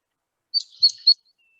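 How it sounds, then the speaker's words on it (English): A song sparrow calling in a wetland: three quick, bright chirped notes, clear and fairly close against otherwise silent surroundings. "we've got a song sparrow coming up here"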